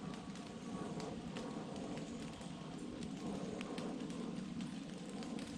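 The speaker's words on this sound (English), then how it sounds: "Hearing the rain hitting the leaves above me." Steady rain pattering on the forest canopy leaves overhead at Kings Mountain, a dense, continuous hiss with scattered nearby drip impacts, fairly loud and unbroken, no voices.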